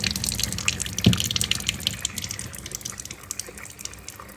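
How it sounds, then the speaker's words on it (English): Water runs steadily through the filters and pre-filters of a water ionizer, a continuous close splashing gush with a small knock early on. "And now we have water coming through our machine."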